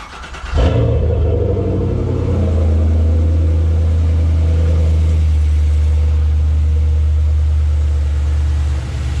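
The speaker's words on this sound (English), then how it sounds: "put the battery back, start the car up" A 5th generation Chevrolet Camaro, 2010 to 2015 model, starts up after a starter replacement with a quick crank and loud catch, then settles into a steady, deep idle rumble close by, no talking.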